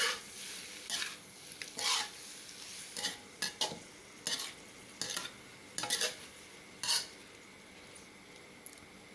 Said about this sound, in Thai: ผัด ให้เขาสุกเลยนะคะ